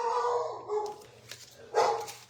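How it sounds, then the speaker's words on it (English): A dog barks and yips a few times at a short distance, the sounds rising and falling over a low steady background hum. "my dog's barking"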